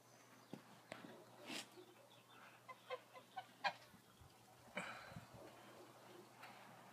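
Chinese geese honk in a faint, distant outdoor setting, with a short cluster of scattered nasal calls in the middle of a quiet, hushed background.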